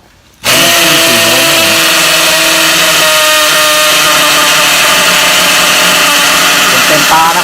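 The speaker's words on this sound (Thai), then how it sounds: "เดี๋ยววันนี้ผมจะเอาไอแม็กสิบสี่โวลต์นะครับเจาะกำแพงปูนนะครับผม" An Imax cordless drill bores into a concrete house wall, starting abruptly and then holding a loud, steady, close-up motor whine without letting up.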